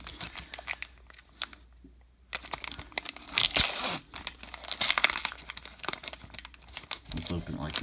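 A 2012 Topps Chrome baseball card pack wrapper crinkles and tears open up close, with loud rustling bursts and a short quiet gap midway.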